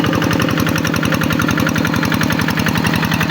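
A Kubota tractor engine runs steadily while tilling a field, a loud, continuous rhythmic chugging with a fast regular pulse and no pauses.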